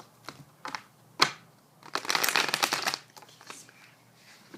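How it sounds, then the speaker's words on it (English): Papery tarot cards riffle and slap in short bursts, with one longer shuffling flurry in the middle, close and fairly quiet. "Let's give a shuffle."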